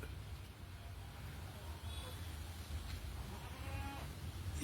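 A milk-giving male Beetal goat at a rural house gives a couple of faint, thin bleats, distant and partly masked by steady background noise and low traffic rumble.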